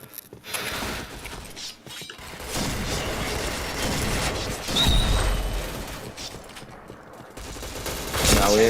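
Rapid bursts of gunfire from the shooter game Point Blank rattle under a busy mix of game effects and clanks, with a voice talking over it.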